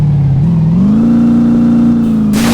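A car engine in the BeamNG.drive driving game revs loudly and climbs steadily in pitch, holding a strong sustained drone close up before a sudden burst of noise near the end.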